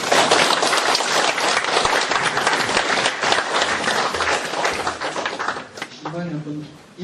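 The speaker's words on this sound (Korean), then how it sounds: "큰 박수 부탁드립니다" A lecture-hall audience at a Korean humanities forum claps in sustained, dense applause to welcome a lecturer. The clapping fills the room close and loud, then thins near the end as a voice begins speaking.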